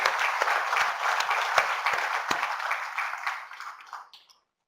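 A conference audience applauds a speaker at an inaugural session, a dense round of clapping from a hall crowd that fades out over a few seconds.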